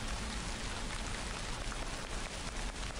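Steady rain falls outdoors, a dense, even hiss of drops hitting surfaces, fairly close and constant with no other sounds.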